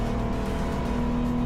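A 750MC race car drives on the Silverstone National circuit, its engine a loud, close, sustained drone with steady tone, no talking.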